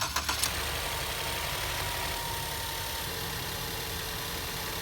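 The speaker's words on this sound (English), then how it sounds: "Let's go ahead and start this motor up." A 2014 Ford Escape with a 2.0 EcoBoost engine cranks briefly and catches, then settles into a loud, steady, even idle that carries on for several seconds with no voices.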